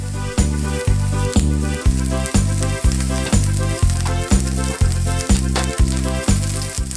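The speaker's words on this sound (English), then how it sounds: "Fry the onion lightly. With a bit of oil." Onion frying lightly in a little oil for rosti hash browns and an omelet, cooked aboard a boat: a steady, loud close sizzle runs throughout under a regular beat of rhythmic background music.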